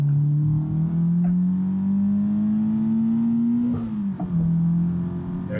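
Engine of a Nissan Silvia S13 or Toyota AE86 in a PC racing mod, a loud steady drone rising in pitch under acceleration, then dropping briefly at a gear change before climbing again, with no talk.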